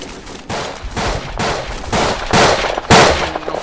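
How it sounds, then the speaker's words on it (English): Mortar fire in the World War I shooter Verdun: a series of heavy, booming blasts roughly every half second, loud and close, with dense crackling rumble between impacts and no voices. "Those damn mortars"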